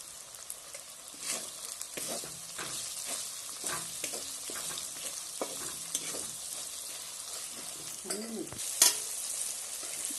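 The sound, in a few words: sautéing spice masala in pan for chicken biryani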